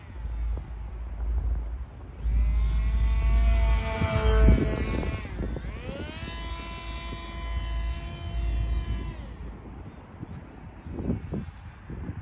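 A fast 20-amp model jet flies in the wind with a high, whining engine tone that rises and swoops as it passes overhead, then fades to a distant whir.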